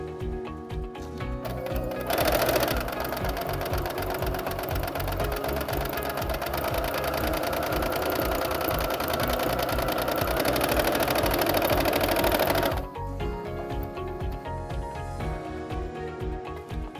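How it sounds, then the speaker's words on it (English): A sewing machine stitches a straight seam, a steady fast mechanical whir running continuously for about ten seconds, close and loud, with quieter machine rattle before and after. "you will sew a straight line."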